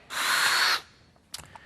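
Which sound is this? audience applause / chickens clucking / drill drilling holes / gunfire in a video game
drill drilling holes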